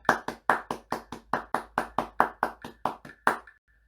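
Hands clap an even rhythm in a cornet and trumpet lesson, about fifteen crisp, close claps in steady succession before stopping.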